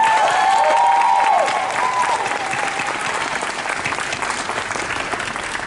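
Audience applause at a live hip-hop concert at a retirement village venue in Lee's Summit, Missouri, a steady, dense clapping wash that stays loud throughout, easing slightly toward the end, with no talk over it.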